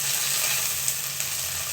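Chopped capsicum fries in a hot pan, giving a steady, close hiss of sizzling oil with a couple of faint clicks as it is stirred.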